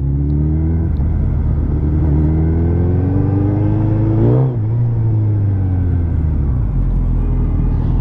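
A Suzuki Hayabusa motorcycle cruises a city road with a loud, steady engine drone, its pitch shifting with throttle changes and a brief rev near the middle, the rider not speaking.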